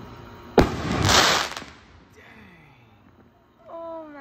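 A large fireworks shell bursts loudly at an outdoor display, followed by a long rumbling, crackling decay. After that come faint distant pops and a brief whistle, with an excited exclamation close by.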